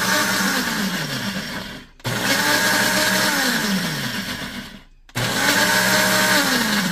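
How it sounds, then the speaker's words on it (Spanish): A kitchen blender grinding a sauce base in three loud, close pulses, each a whirring burst that winds down before a brief silence, no voices. "Vamos a moler en pulsación unas tres"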